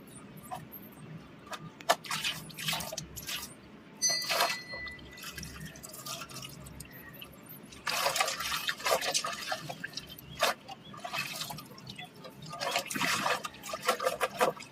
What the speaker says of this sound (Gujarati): પહેલાં કપડાનું પાણી નીતરાવા થોડી વાર મૂકી જાય